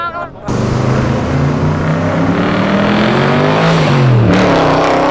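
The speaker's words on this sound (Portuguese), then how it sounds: "Não parece que o carro tá engasgando?" A loud BMW M4 engine revs and runs unevenly, sputtering, its pitch rising and dipping with rough, choppy bursts rather than a smooth tone.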